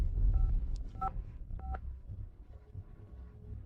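A phone being dialed, a handful of short beeping keypad tones spaced unevenly, close and clear with a low rumble of background noise.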